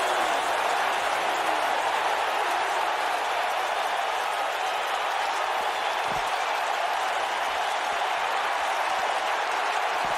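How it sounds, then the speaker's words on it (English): A large arena crowd in the WWE 2K19 wrestling video game roars steadily, a dense wash of cheering and applause that holds at a constant level throughout. "When you listen to this crowd, they're absolutely electric."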